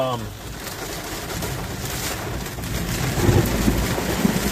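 Thunder rumbles from a close lightning strike during a storm with intense wind and rain in Chester, Virginia, a low booming roll building over steady rain, with a voice speaking briefly at the start.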